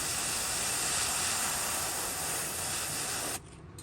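A steady aerosol spray of paint onto a fishing lure hisses continuously for about three seconds, then cuts off abruptly, leaving a quieter background.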